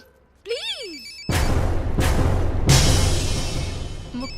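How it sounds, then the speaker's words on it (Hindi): A telephone rings in a Bollywood comedy film scene, a short warbling ring tone followed by loud, dense background noise and crashing sounds that continue to the end. "मुक्ति कपूर का फोन"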